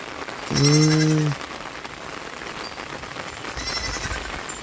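Steady rain patters on the ground as a broad, even hiss, while a sheep or goat bleats loudly once nearby and a fainter bleat follows later.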